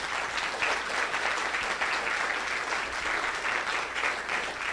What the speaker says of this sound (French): rien que ça s'applaudit avant même qu'il arrive.